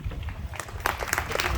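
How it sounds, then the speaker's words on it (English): An audience at a Serra Wall of Fame induction ceremony gives a brief round of applause: many hands clap together in a steady patter, with a few sharper claps standing out near the end. "another round of applause for Serra Wall of Honor inductee"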